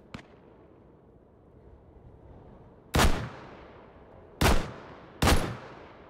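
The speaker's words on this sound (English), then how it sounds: "Yeah, they're taking shots at me" Gunfire in the VR game Hot Dogs, Horseshoes & Hand Grenades comes as a small early crack, then three loud, sharp single shots with echoing tails, spaced over a few seconds against a quiet background.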